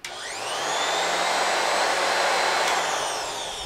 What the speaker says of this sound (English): Let's vacuum a little bit with this.